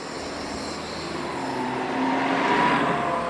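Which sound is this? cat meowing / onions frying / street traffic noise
street traffic noise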